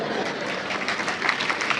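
An audience claps in a steady, moderate burst of applause, brief and continuous throughout.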